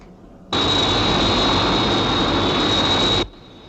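Jet aircraft roaring on takeoff as a television sound effect, a loud steady blast starting abruptly and holding for nearly three seconds before cutting off sharply, with a high whine riding on top.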